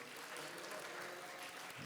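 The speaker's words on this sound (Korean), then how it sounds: "박수로 축복하겠습니다" A church congregation claps together as a blessing, a dense, even burst of applause that holds steady throughout, fairly soft and heard from a distance.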